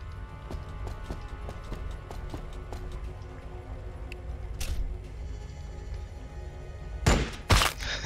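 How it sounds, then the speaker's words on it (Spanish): Gunshots in the Warhammer 40000 Battlesector video game ring out as a sharp crack midway and a quick pair of loud blasts near the end, over a low rumbling battlefield din with scattered clicks. "Un disparo y acabado."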